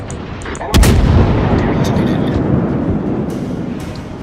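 Heavy naval guns boom in the World of Warships video game, with one sharp close blast followed by a long rumbling roll of distant gunfire and explosions.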